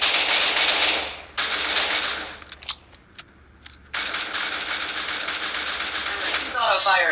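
Automatic gunfire in the shooter game Cyber Hunter, loud sustained bursts of rapid shots broken by short pauses and scattered single clicks, with game effects and a faint voice underneath.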